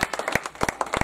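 A church congregation claps in praise of Jesus during a worship service, quick crisp hand claps in an uneven rhythm, close and fairly loud for a brief burst.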